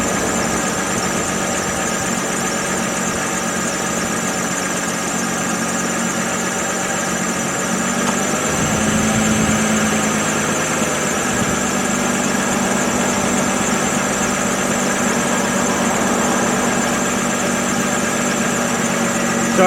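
A car engine idles steadily during a battery load test with the blower, AC and radiator fans running, a continuous droning hum with whining tones and a faint brief shift midway, no voices.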